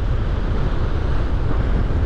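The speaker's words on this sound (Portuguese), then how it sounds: "recebendo aí o mar agitado, né, recebendo o vento maral, a ressaca" Strong sea wind buffets the microphone over rough surf at a rocky beach in Cabo Frio and Arraial during a southwest swell, a loud, continuous roar with no voices.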